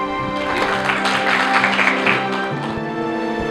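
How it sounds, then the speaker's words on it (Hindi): An audience applauding inside a church at Zia Colony, steady clapping over a sustained droning tone, moderately loud, with no speech over it. "आपकी भरपूर तालियों में"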